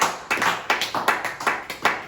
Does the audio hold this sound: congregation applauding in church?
yes